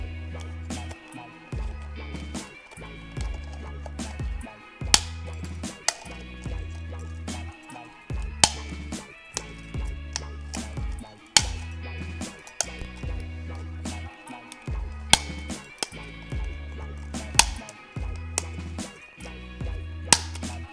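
Three-hole paper punch driven through plastic, a steady series of sharp crunching clacks about every second or so, close and distinct with no talk.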